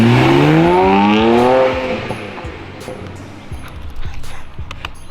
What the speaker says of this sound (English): Sounds like a built long block STI to me.